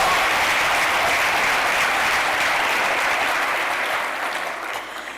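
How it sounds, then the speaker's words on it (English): Sustained, dense applause from a large audience at a university fundraising gala dinner, loud and steady throughout before tapering slightly at the end, with no talking over it. "Give her a round of applause."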